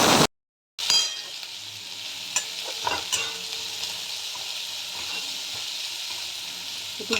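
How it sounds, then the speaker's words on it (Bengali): Onions frying in a pan sizzle steadily after a brief silence, with occasional stirring scrapes and crackles over a continuous hiss. "একটু ভেজে নেব, পেঁয়াজগুলো নরম করে নেব।"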